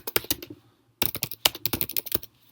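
Keystrokes on a computer keyboard come in two quick bursts of close, crisp clicks separated by a short pause, with no talking.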